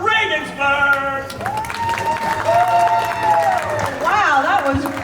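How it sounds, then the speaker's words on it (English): Audience applause for a comedian at a comedy dinner event, steady crowd clapping and cheering heard under a talking voice and tonal sounds from the stage. "give her a round of applause, Janet Regensburg."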